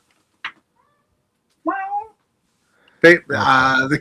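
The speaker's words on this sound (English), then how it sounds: "I can hear your cat" A house cat meows several times, two short faint mews followed by a louder, longer drawn-out meow close by, with silence between the calls.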